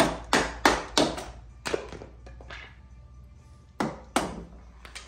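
A chisel is tapped along a marked line to cut a tenon in a timber frame, with several sharp close wooden knocks in short bursts and quiet gaps between them.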